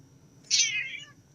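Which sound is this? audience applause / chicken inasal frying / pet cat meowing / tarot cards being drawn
pet cat meowing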